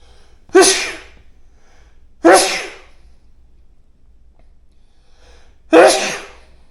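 Three loud, close sneezes burst out one after another with pauses between them, each a sharp explosive onset trailing off, in a quiet workshop setting during bench monopod assembly.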